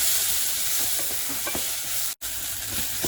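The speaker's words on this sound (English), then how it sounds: "So we stirred the onions for about 2 minutes." Diced onion sizzling in vegetable oil while being stirred, a steady close hiss of frying with soft scraping stir sounds and one brief dropout.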